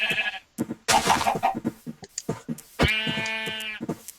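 Video game sheep bleat in a couple of loud, nasal, wavering cries mixed with chatter from players talking over the game.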